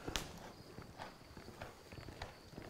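A horse's hooves clop at a steady walking rhythm on firm ground during a groundwork training session, several distinct footfalls sounding at a moderate distance, with a faint voice in the background.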